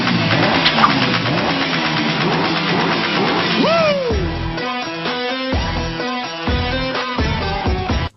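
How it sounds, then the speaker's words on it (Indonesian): A motorcycle engine revs loudly and close as its rider sets off, the pitch rising and falling over background music, with no talking. "Bayi Rafa menggunakan motornya langsung pergi ke base camp truk milik Kumar"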